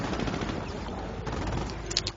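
Machine gun fire rattles in a WWII strategy video game, with quiet, rapid bursts of shots over a busy low battlefield rumble, ending in a couple of sharper cracks.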